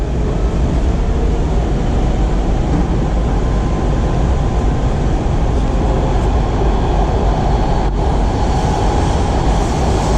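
Loud, steady rumble of a WMATA Silver Line metro train bound for Largo pulling into an underground station, a continuous roar with no pauses.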